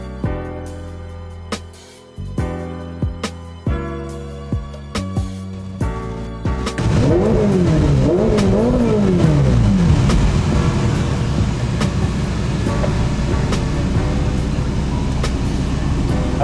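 A Ferrari F8 Tributo with a Novitec exhaust idles with sharp throttle blips, then revs into a loud, sustained roar and exhaust drone that rises and falls.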